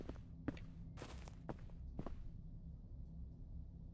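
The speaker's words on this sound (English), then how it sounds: "Is that somebody walking around outside, stepping on grass, or is it my own footsteps?" Footsteps on grass in a horror video game, a slow series of soft, crunchy steps spaced about half a second apart, fairly close and quiet, then trailing off into a hushed background.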